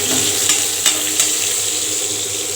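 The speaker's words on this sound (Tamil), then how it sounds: "இது கிராம்பு போட்டாச்சு இது வாதம் நல்லா பொரியுது பாருங்க பொரியட்டும்" Almonds and cloves frying in oil for a lunch-box dish give a steady, close sizzle across the whole clip, with a few brief sharper crackles standing out and no voices.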